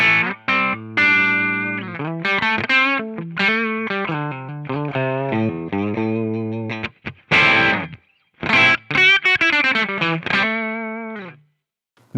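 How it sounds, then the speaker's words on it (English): Electric guitar played through a Brit 8000 amp model and cab in AmpliTube 5 on stock settings, gritty, distorted riffs and chords with choppy stops and ringing sustains, loud and alone, fading out at the end. "this is what comes up with sort of these stock settings of Brit 8000 into this cab"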